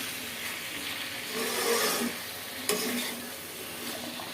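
Vegetables and dried loitta fish sautéed in a pan give a continuous close sizzle, with scraping stirring strokes and one sharp clack of the spoon against the pan partway through.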